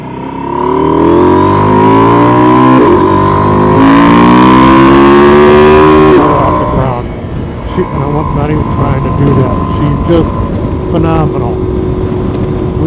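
A 2024 Husqvarna Norden 901 Expedition motorcycle engine rises through the gears in steady loud pulls for about six seconds, then drops to a lower rumble as someone talks over the riding noise.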